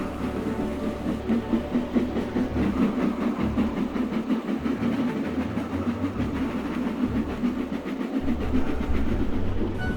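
A steam train engine runs steadily with a continuous rumbling chug and rhythmic rail clatter, close and loud throughout, no voices.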